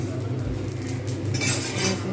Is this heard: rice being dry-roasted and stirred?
yes